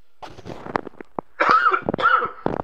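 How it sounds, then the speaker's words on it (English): A person coughs repeatedly at close range, a series of harsh, throaty bursts with brief pauses between them. "you guys don't want to hear me coughing all over the place"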